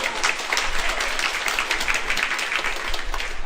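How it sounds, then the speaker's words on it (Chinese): Church congregation applauding during a Sunday worship service, a dense, steady wash of many hands clapping together that fills the room evenly throughout, with no pauses or swells. "再拍手一次好不好？ 鼓励一下。"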